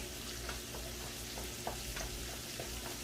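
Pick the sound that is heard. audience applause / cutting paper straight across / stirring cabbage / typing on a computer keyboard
stirring cabbage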